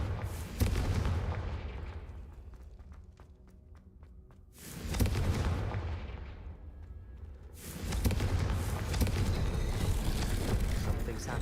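Confringo spell blasts in Hogwarts Legacy, three heavy booming explosions a few seconds apart, each followed by a long rumbling decay.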